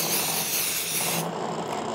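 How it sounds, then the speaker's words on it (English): Adhesive spray hisses steadily onto the back of a traced fabric flower pattern for trapunto quilting, one continuous close, loud burst that cuts off near the end. "and I'm gonna spray it."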